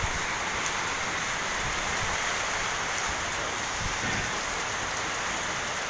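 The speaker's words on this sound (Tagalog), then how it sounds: "napakalakas ng ulan" Heavy rain pours steadily outdoors, a dense continuous hiss with soft low rumbling underneath, even and unbroken throughout with no voices.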